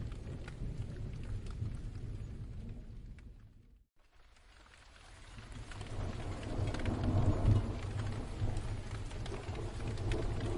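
Rain falls in a soft, continuous hiss with low rumbling beneath, dropping out briefly near the middle before swelling back to a steady patter, faint and distant, no voices.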